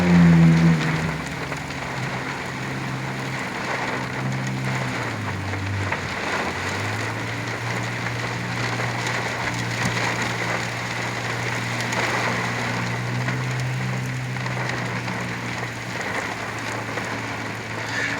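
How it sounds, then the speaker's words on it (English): Very heavy rain from a derecho storm with gusty winds in Oklahoma, a dense steady roar of downpour drumming on surfaces, loud and unbroken, with a low engine-like hum underneath and no talking. "It's raining so much,"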